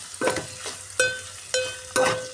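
Onions with turmeric stirred in a frying pan: four distinct scrapes of a spoon against the pan, each a bright clink followed by a short sizzling rasp, close and alone with no talking.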